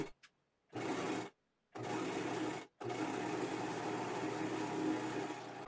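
A sewing machine topstitches a seam on a dress in three runs, first two short bursts and then a longer steady stretch of stitching, with brief silent gaps between them and no voices.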